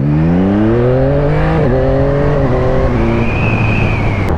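A 2022 Yamaha MT-09 A2-restricted motorcycle revs up steadily from a start, its rising harmonic whine climbing in pitch with a brief shift midway, loud and close.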